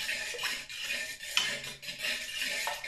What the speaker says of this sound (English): Now I'm just going to give that a little bit of a stir in.